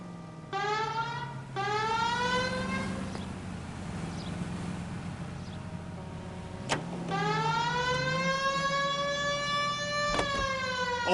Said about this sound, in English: We have a siren.